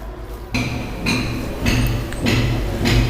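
A spoon scrapes and knocks against a pan as cooked rice is mixed into a tomato mixture for tomato rice, giving a few dull, close thumps at roughly half-second intervals with no talking.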